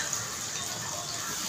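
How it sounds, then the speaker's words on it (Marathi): Puree made from two tomatoes pours into a pan over medium gas heat, a steady soft liquid gush lasting the whole moment with no other sound. "मी 2 टोमॅटो घेतले, त्याची प्युरी केलेली आहे, ती ओतते"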